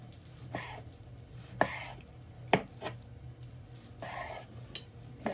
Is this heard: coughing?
no